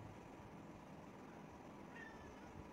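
A pet cat gives a single faint, brief meow indoors in a quiet room, with steady low background noise around it.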